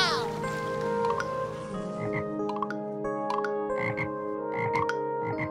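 Frog croaking in a garden, with repeated croaks and a musical backing layered over it; the croaks are loud and close.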